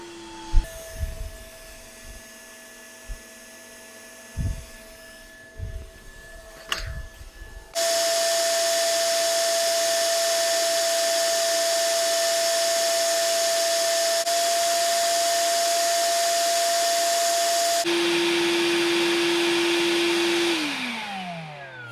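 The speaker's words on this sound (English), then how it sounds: "we're going to try on low speed and see how much time or working time we can get out of this battery on low speed with this vacuum" A Milwaukee M18 cordless vacuum running on low speed on a 5.0 battery gives a steady, loud whining drone that holds for about ten seconds, then shifts to a lower tone and winds down. Scattered knocks and handling noises come before it starts.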